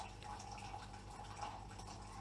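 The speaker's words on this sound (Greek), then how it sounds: "Μέσα στη ζάχαρη ρίχνω το νερό μου." Boiling water is poured into sugar for a heavy syrup, a soft, continuous liquid pour and trickle, quiet and close, with no talking over it.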